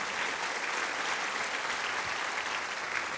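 A church congregation applauds, a steady, loud burst of many hands clapping throughout with no break.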